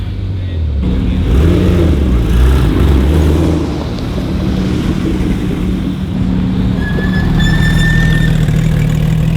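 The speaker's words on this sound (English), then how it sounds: "The old Club Sport with squeaky brakes." An old Porsche Club Sport idles with a low, steady engine rumble, and near the end its brakes give a thin, high squeal that rises in pitch over a few seconds; voices are faint in the background.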